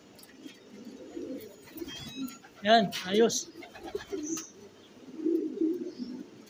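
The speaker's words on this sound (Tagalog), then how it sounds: "Meron na tayong 4 na ibon mga lapatids." Pet pigeons or doves coo softly and repeatedly close by, their low murmuring calls running through the scene while a person speaks briefly over them.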